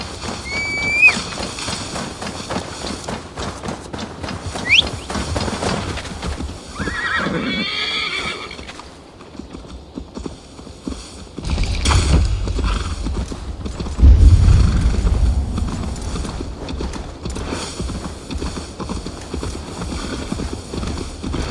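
Horse hooves clip-clop in Assassin's Creed Valhalla as Magni's horse is led along, with loud whinnies and neighs, intermittent rhythmic hoofbeats, some creaking mechanisms and deep rumbling thuds mixed in, and no talking.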